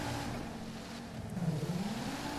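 In the GTA Online video game, a vehicle drives through water with a low engine drone and sloshing splashes that swell briefly, heard fairly quietly.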